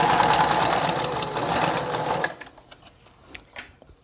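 A sewing machine runs a straight seam to secure a trouser hem, buzzing steadily and loudly for about two seconds before stopping, followed by a few soft clicks and handling noises.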